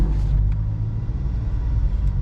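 A parked car's exhaust drones in a steady low rumble, close and continuous, with no talk over it.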